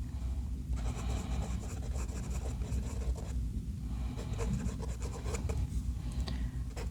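A fountain pen with a medium nib scratches steadily across paper in a close, quiet, continuous rubbing stroke with brief pauses between words.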